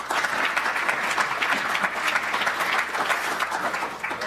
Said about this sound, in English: So how about a round of applause for Dana Blum?